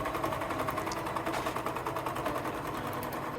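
A sewing machine runs steadily while finishing the seams of a dress bodice, a close, even, rapid mechanical whir-and-tap with no pauses.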